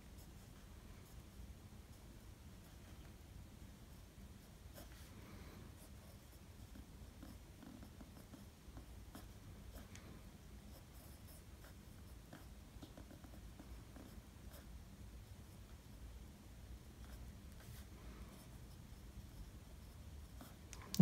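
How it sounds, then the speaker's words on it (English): Right-handed writing with a Kaco Retro fountain pen on paper: a very faint, steady, soft scratching with light rustles throughout, quiet and close, without any voices. "So I'll just do a little bit of right-handed writing."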